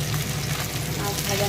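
Fish frying in a pan, for a black cumin curry, makes a steady, dense sizzle and crackle that fills the whole stretch at close range, with no pauses.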